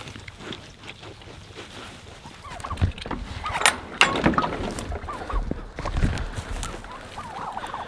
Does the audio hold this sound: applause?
no